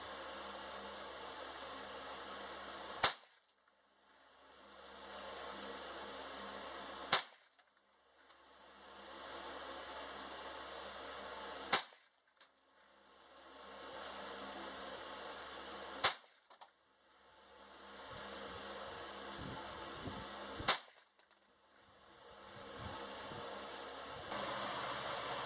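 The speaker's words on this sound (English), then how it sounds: "All right, shoot the target again. I'm just going to aim at the center dot. 5 rounds." Five sharp gunshots from a Ruger 10/22 Takedown rifle fired at a target, evenly spaced about four seconds apart, each a loud crack with a short decay over steady background hiss.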